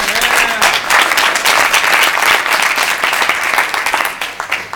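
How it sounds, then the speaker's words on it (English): Loud, sustained applause from the audience at a game startup demo and pitching night, many hands clapping densely for several seconds before thinning slightly at the end. "applause for Kadri!"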